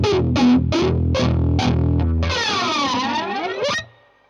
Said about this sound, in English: it's got a bit of distortion and just chug away